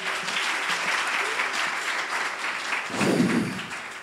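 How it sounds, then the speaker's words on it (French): An audience claps steadily for a female singer at a vocal talent show, a dense, even wash of applause that swells slightly louder near the end. "Applaudissez pour elle, s'il vous plaît."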